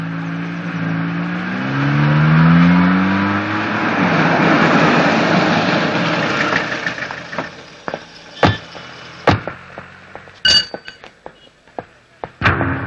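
A bus engine rumbles close by, swelling in a low drone with a rising rev before settling to an idle, then a series of sharp knocks and thuds punctuates the tail.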